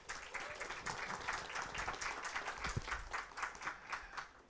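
Audience at a conference panel session gives a round of applause, steady overlapping clapping from a moderately distant crowd, fairly quiet and continuous throughout.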